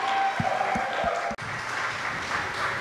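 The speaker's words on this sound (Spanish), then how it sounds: "te damos un fuerte ofrenda de aplausos" Congregation applause at an online Spanish-language worship celebration, a steady wash of clapping filling the clip with a few louder low thumps early on and a brief dropout midway.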